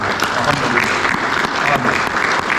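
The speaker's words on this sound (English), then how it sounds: "Give Tom a round of applause for being awesome" An audience claps steadily and enthusiastically, a dense, even wash of applause that holds at the same loudness throughout.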